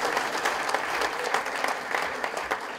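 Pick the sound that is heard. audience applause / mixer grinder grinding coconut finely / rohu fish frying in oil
audience applause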